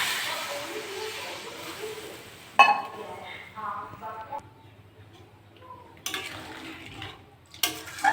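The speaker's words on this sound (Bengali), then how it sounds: "ভালো করে কষে নিয়েছি, আমি এবার জল দিয়ে দেবো।" Water splashes and hisses into a hot pan of crab and prawn curry with Malabar spinach, pumpkin and potato, with sizzling bursts and utensil clinks around it, close by.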